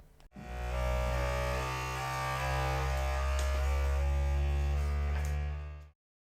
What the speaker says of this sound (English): The P1P levels its bed and runs some vibration tests to ensure best quality even at high printing speeds.